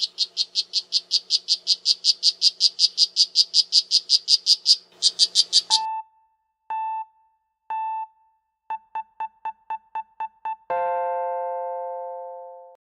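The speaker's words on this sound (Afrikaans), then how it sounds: "het jullie al gehoord van een gifpijltje padda?" A poison dart frog calls in a fast series of high buzzing trills, followed by a run of clean electronic chime tones and a long ringing note.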